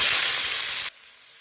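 Three large onions with fennel seeds and green chillies sizzle in refined oil for egg kulambu, a loud hissing fry that drops abruptly to a faint hiss.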